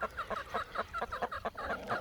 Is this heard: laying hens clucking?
yes